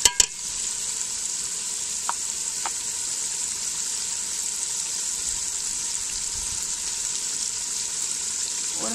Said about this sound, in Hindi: मसाले मैंने इसमें शामिल कर दिए हैं, अब मैं इसको ज़रा भूनूंगी।